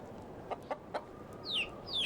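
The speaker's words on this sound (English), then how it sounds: "we'll take the male, because he will be our rooster" Chickens in the hen house of the Medieval Dynasty video game give three short, soft clucks in quick succession, followed by a couple of brighter bird chirps over a quiet background hum.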